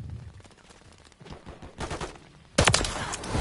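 Shotgun blasts in Modern Warfare III: a few loud, sharp reports, the last and heaviest near the end, with a steady rattle of game noise between them.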